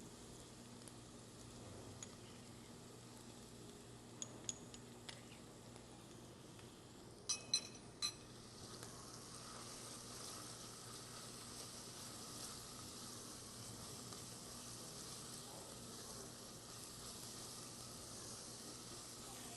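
Garlic fries in a pan with a faint, steady sizzle and hiss, broken early by a few light clinks of a utensil against the cookware.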